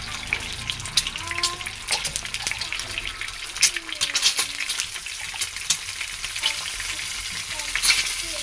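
Eggs frying in a pan with turmeric and salt for egg tomato curry, a continuous close sizzle with stirring and occasional watery crackles, no talk.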